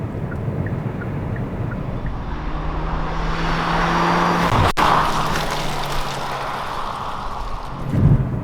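A 2020 Hyundai Kona Hybrid drives at speed toward a corner, its steady engine drone and road and tire noise rising slightly in the middle, with a faint higher whine carried along.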